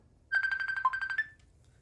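Melodic phone ringtone in the farming video game Farm Together 2, a quick run of about a dozen bright, evenly pulsed electronic notes lasting about a second, clear and alone over a faint background.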